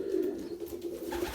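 Pigeons coo in a loft, a soft continuous low burbling from several birds close by, with faint rustling and flutter over it.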